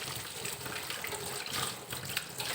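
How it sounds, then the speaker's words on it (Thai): Tap water runs steadily over hands being washed at a kitchen sink while preparing a spicy Isan cabbage, spring onion and garlic dish, a continuous close splashing stream with no talk. "ล้างมือก่อนเด้อพี่น้อง"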